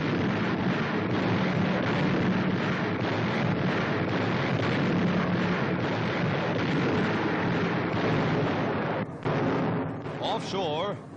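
Heavy bombing of jungle positions on Bougainville in 1943, a continuous rumbling barrage of explosions with wind-like roar, dense and loud throughout, thinning briefly near the end.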